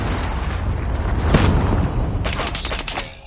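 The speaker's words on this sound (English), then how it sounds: "Friendly Predator missile inbound." A Predator missile explodes in a Call of Duty multiplayer match, a loud rumbling boom with crackling debris and gunfire-like bursts that swells, then flares again before fading.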